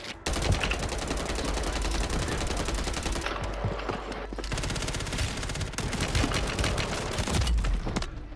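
Dense, nearly continuous rapid gunfire in a video game firefight, with loud booming shots layered over the rattle and only brief dips before the firing resumes.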